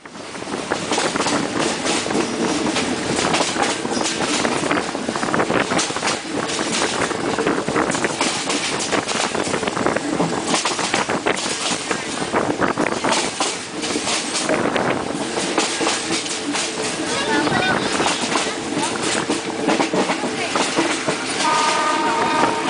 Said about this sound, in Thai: รถเนี่ยกำลังกำลังเคลื่อนไป ข้ามภูเขาไป